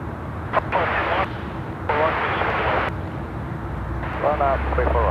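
A jet departs runway 34 right at Sydney Airport, its broad steady roar running beneath intermittent talk throughout.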